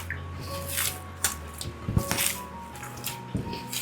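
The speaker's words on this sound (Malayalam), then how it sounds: "കുറച്ച് നെയ്യും കൂടെ ഒഴിച്ചിട്ട് കൈ വെച്ചിട്ട് നന്നായിട്ടൊന്ന് കുഴച്ചെടുക്കാം." Hands knead a soft, loose dough of steamed jackfruit and ripe banana with ghee, giving close, wet squishing and squelching in uneven bursts, with no voices.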